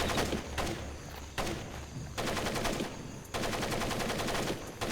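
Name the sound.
video game gunfire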